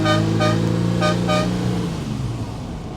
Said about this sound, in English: let's not forget that Fiat horn